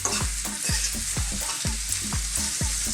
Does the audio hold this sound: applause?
no